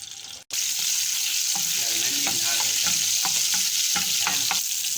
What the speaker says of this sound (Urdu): یہ تو ایک چمچ ہم میں اس میں ادرک لہسن کا پیسٹ ڈالیں گے۔